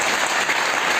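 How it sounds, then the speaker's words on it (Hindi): Loud, steady applause from a church congregation during a Hindi-language sermon, a dense wash of clapping hands filling the whole moment without a break or any voices. "तो ताली बजा दी एक बार जोर से"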